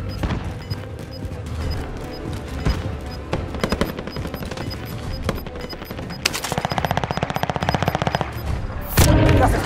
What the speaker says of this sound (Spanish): ¡Disparan!